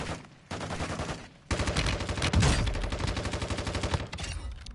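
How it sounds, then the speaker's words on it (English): Rapid automatic gunfire in Call of Duty: Warzone 2.0, bullets striking a wall, loud dense bursts with a brief pause near the start, then sustained rattling fire. "I'm aiming at him, and the bullets are going into the wall."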